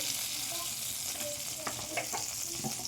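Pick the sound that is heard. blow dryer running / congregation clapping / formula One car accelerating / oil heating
oil heating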